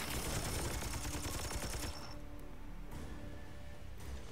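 Video game gunfire crackles in a dense, rapid burst for about two seconds, then thins to sparse scattered shots against a muted background, with no voices.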